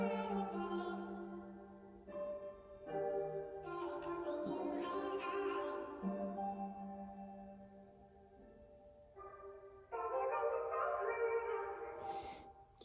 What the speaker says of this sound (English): this vocal piano sample that I just found from Splice